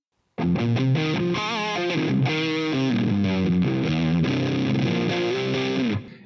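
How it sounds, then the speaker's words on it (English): A heavily distorted electric guitar through an ACLAM Cinnamon Drive overdrive pedal plays a strummed chord progression, loud and continuous with a thick, saturated crunch, then cuts off abruptly. "It's starting to sound like a blown out amp."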